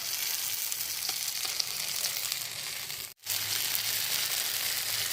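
Masala fish frying in oil on a tawa, a loud continuous sizzle close up, briefly cut by a short gap as the fish is flipped before the hissing resumes.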